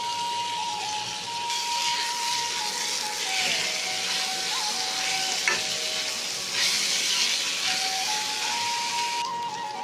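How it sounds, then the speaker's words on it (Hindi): Chopped tomatoes, ginger and green chilies sautéing in a pan for rava upma, a continuous bright sizzle with stirring that swells and eases, alone and close up, over a faint background tone. "सब्जियां भून चुकी है"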